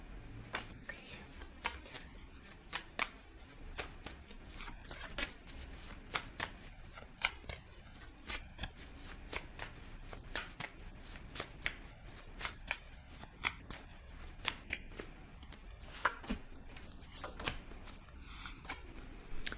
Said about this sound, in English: the first card that just flew out as soon as I started shuffling